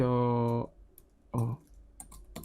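A few light, sparse computer keyboard clicks come between stretches of speech as a file name is typed into the Adobe Premiere Pro export settings.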